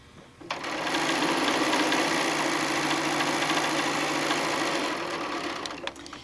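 A sewing machine chain-pieces quilt pieces in one unbroken, close run of rapid, steady stitching that starts abruptly and stops near the end.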